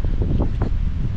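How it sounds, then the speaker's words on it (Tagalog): Strong wind in Finland buffets the microphone with a low, roaring rumble and gusty swells, loud and continuous. "Grabe kalakas sa hangin."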